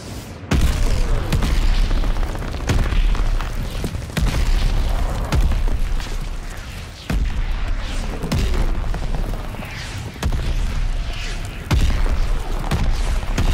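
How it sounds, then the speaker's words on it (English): Allied mortar fire pounds the area in the Call of Duty Vanguard shooter game, with repeated heavy booming explosions every second or two over a dense, continuous roar of battle noise, close and loud. "Heads up! Allied mortar fire coming."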